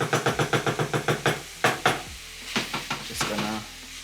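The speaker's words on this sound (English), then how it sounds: "So we're stirring this. Giving it a stir." Taco filling sizzling in a pan as it is stirred, with rhythmic scraping strokes at first followed by sharper clanks of a utensil against the pan, close up over a low hum.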